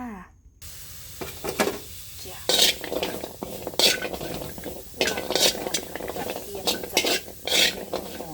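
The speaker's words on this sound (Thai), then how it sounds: "นี่เป็นหอมกระเทียมที่เราเตรียมไว้นะจ๊ะ เดี๋ยวเราจะนำน้องมาคั่วในกระทะจ้า" Shallots and garlic dry-roast in a pan for a Thai chili paste, giving soft sizzling under repeated scraping and clinking stirs of a utensil against the pan, close and moderately quiet.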